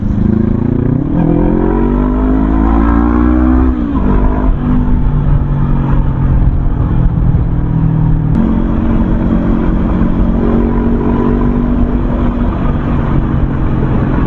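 A Bristol Venturi 500 motorcycle accelerates hard through the gears, its engine note rising in steady sweeps with a gear change near the middle, loud and close under heavy wind rush.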